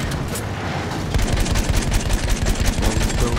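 Heavy gunfire from a Battlefield 1 match, with dense, continuous bursts of rapid shots and booms that grow louder after the first second and keep rattling without a break.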